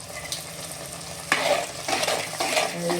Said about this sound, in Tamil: கொஞ்சம் பச்சை வாசனை போகிற வரைக்கும் நல்லா வதக்கிட்டு